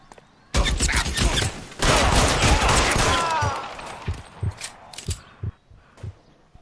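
Gunfire in L.A. Noire during a police shootout: two loud, dense bursts of shots, followed by scattered single shots and impacts that grow sparser, with voices mixed in.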